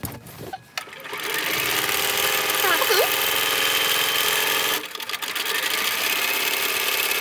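A sewing machine runs steadily for several seconds, stitching a strip onto a rectangle-center log cabin quilt block, with a brief pause and a shift in its hum near the end.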